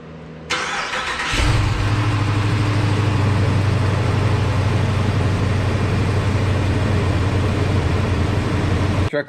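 A 2019 Ram 2500 pickup with the 6.4L Hemi V8 cranks briefly and fires, then settles into a steady, loud, close idle with a constant low rumble that continues to the end.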